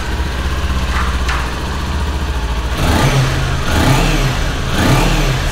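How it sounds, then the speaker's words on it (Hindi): A Kawasaki Ninja 400 BS6 motorcycle idles with a smooth, bassy hum, then the engine is revved several times in quick, rising bursts close by, with no voices. "और अब इस बाइक की साउंड सुना देता हूँ मैं आपको।"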